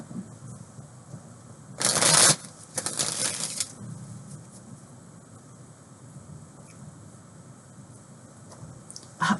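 Two quick bursts of tarot cards being riffled and shuffled, close up, followed by quiet room noise.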